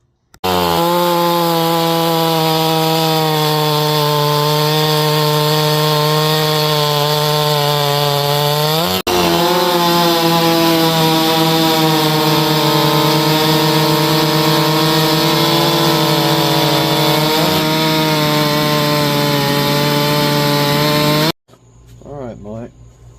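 A Husqvarna 372XP chainsaw with a muffler mod cutting wood, its loud, close two-stroke engine howling at full throttle in a sustained steady roar, dipping briefly midway, then cutting off abruptly and dropping to idle at the end.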